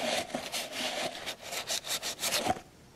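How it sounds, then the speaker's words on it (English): A small wire wheel spun by a drill scrubs the deck of a 1951 Ford flathead engine block between the valve pockets and cylinders, giving a close, harsh rasping in repeated short strokes with brief pauses. "I got a little wire wheel for my drill, and I just clean that area up between the valve pockets and the cylinder"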